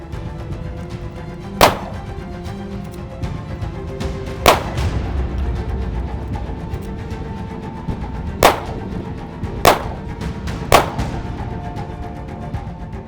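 Five sharp gunshots strike a BulletShield ballistic panel on a test range, spaced irregularly over a low steady background rumble, each crack loud and abrupt with a short ring afterward.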